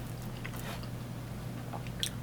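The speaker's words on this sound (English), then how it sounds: "But let's try these home fries here." Someone chews crunchy griddle home fries at a diner in New Jersey, with soft close bites and mouth crunches over a steady room hum.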